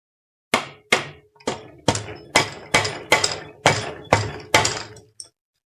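Rubber mallet striking an engine crankcase to split its halves, nine or ten solid thwacking knocks at a steady, roughly half-second rhythm, close and fairly loud with short ringing tails, no talking.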